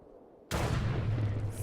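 A loud, sudden burst of gunfire from a weapons mod in the Minecraft Tekkit game cuts in after a quiet start. It holds as a dense, sustained blast.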